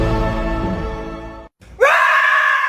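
A person imitates a dinosaur roar with a loud, rough, voiced cry lasting about a second and a half, a brief silence, then a second higher, strained roar close to the mic.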